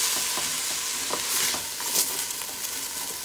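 Two cups of washed rice being stirred into a pot of pigeon peas cook-up, giving a steady hiss with soft, irregular scraping strokes close by, heard alone.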